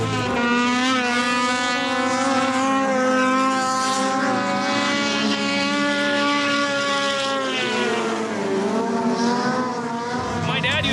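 Racing snowmobile skimming across open water at a watercross race, a loud sustained high-revving engine whine that shifts in pitch as it passes.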